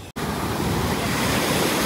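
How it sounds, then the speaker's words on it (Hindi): Surf breaking steadily on a white sand beach beneath cliffs in Bali, a loud, continuous wash of waves close by, cut by a brief dropout near the start and otherwise unbroken, with no talking. "ये काफ़ी सुंदर क्लिफ वाले बीच है, मतलब ये बीच पे क्लिफ है, पहाड़ों के साथ ही साथ ये बीच बना हुआ है"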